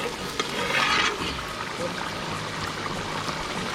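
Tuna fish head curry bubbles in a pot and is stirred, a brief burst of hissing and swishing at first, then a low, steady simmer close by; no talk is heard.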